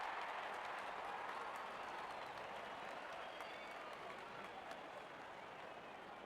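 Steady, dense applause and cheering from a large stadium crowd in the cricket video game Real Cricket 24 as the openers walk out for a T20 World Cup final, continuous and evenly loud for several seconds.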